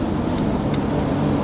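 Lotus Emira with a titanium cat-back exhaust and its valves closed, giving a low, steady, muted drone close by with no talking.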